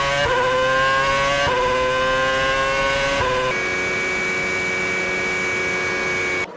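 A Formula One car driven by Verstappen screams across the line at full throttle, its high-pitched engine note rising through quick upshifts before holding a loud, steady wail, close and alone.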